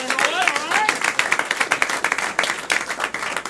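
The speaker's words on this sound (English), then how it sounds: "Clap for Madeline." Audience applause for a performer at a live comedy show, steady clapping filling the room with voices and cheers mixed in.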